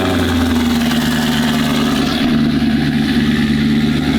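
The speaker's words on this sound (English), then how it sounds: "This car is so loud." A loud, close engine of a 1000-horsepower all-wheel-drive car rumbles with deep steady tones, its pitch shifting slightly midway as it revs, no talking.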